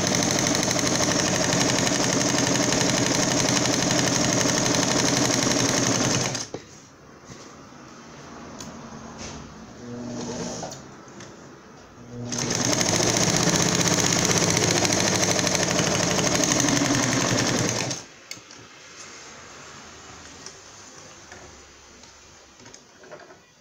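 Sewing machine stitching fabric for a bag holder, running in two loud, steady bursts of continuous motor whir and needle clatter, each lasting several seconds, with quieter pauses between them.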